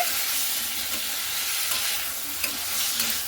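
Chunks of young jackfruit sizzle and crackle in hot oil in a kadai, a loud continuous frying hiss with occasional scrapes and clinks as the pieces are stirred.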